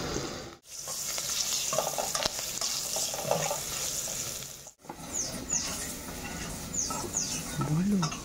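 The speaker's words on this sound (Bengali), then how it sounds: "রসুনটা ভাজা ভাজা হয়ে গেছে।" Garlic frying in a pan while being stirred, a continuous crackling sizzle with scraping strokes of a utensil, close and fairly loud, briefly dropping out twice, with faint voices in the background.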